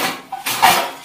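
Metal utensils and dishes clink and clatter in a brief burst of a few knocks while being washed in a home kitchen.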